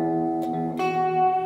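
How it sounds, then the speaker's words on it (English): Sustained electric guitar chords ring through a hall reverb pedal, a soft pick attack at the start and a fresh strum near the middle, tones blooming and lingering with no voices. "So with the hall reverb,"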